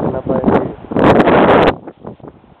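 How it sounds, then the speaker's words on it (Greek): Wind gusting through reeds outdoors, a broad rushing swell that builds, peaks loudly for a moment, then drops back to softer rustling. "Φυσάει, να πάει εκεί."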